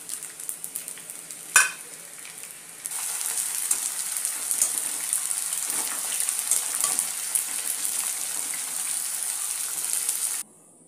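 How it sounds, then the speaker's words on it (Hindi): Rice-flour kurkure snack pieces fry in hot oil with a loud, steady crackling sizzle that surges after a brief clatter, then cuts off abruptly near the end. "हमने इसको सबको तल लिया है"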